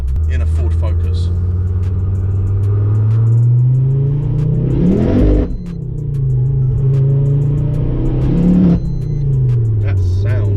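A 500-horsepower tuned Mk2 Ford Focus RS engine drones loudly from inside the cabin, revving hard twice with rising roars and gear-change dips, while a voice talks over it.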